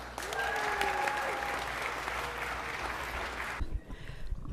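Audience applause at an LA City Council meeting welcoming a K-pop group, sustained clapping and some cheering that cuts off abruptly near the end.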